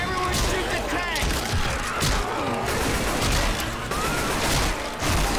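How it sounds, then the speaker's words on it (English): Heavy, continuous gunfire from several players shooting at the Tank in Left 4 Dead 2, a loud, close fusillade of rapid shots and crashes with people talking over it. "Everyone shoot the tank!"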